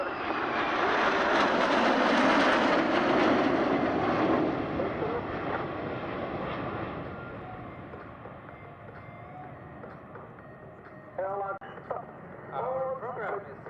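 A Northrop F-5 fighter jet of the Patrouille Suisse display team at an airshow roars past loudly, its jet noise swelling then fading into a distant rumble, with voices speaking over the end.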